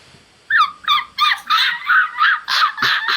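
A dog barks repeatedly, about eight quick, loud, close yips in a steady rhythm with no talk over them.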